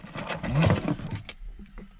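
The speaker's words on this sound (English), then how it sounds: "Getting the spare set of keys," Spare keys for a Plymouth Barracuda jingle and clink briefly as they are handled and slipped onto a ring, close by, followed by a few light metallic taps.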